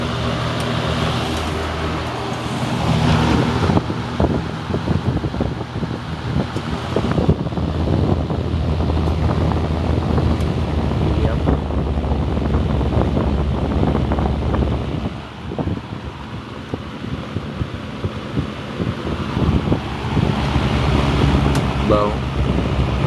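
A Windsor Lakewood electric box fan runs with a continuous broadband whoosh of moving air, steady and close, while someone talks over it.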